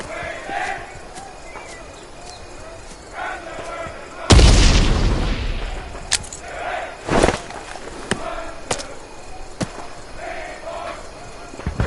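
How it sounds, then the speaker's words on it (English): In the Vietnam-era shooter Hell Let Loose Vietnam, a thrown grenade goes off with one loud, sudden boom that rolls and fades over several seconds, set among scattered distant gunfire and battlefield noise, with a voice speaking around it. "Grenades are a powerful explosive item. Equip one now and throw it towards the enemies."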